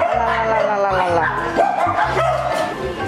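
Small dogs barking and yipping at a Japanese dog theme park, repeated close, loud yaps with whimpers in a lively busy setting, with people talking in the background.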